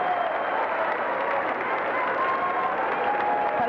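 Sustained audience applause at the Señorita México 1991 beauty pageant award ceremony, a steady dense wash of clapping from the gathered crowd with a faint voice underneath.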